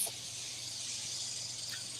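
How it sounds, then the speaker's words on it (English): Cicadas at Disney's Animal Kingdom theme park drone in a steady high-pitched buzz that fills the air, faint and continuous, with no speech. "there's a lot of cicadas there."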